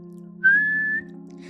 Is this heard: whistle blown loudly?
yes